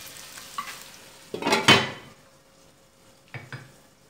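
Chicken cooks in a pan over a low flame for a chicken pasta dish, giving a soft sizzle with a louder burst of frying and stirring in the middle and a few brief clinks of cookware near the end.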